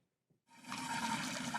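Water pours back out of a container during a magic trick, a short gushing splash that starts abruptly after a brief near silence and carries on as a moderate rushing flow.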